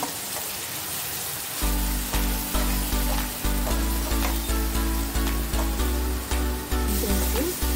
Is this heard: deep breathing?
no